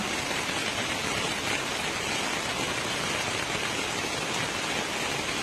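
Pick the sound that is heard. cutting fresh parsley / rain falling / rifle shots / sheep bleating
rain falling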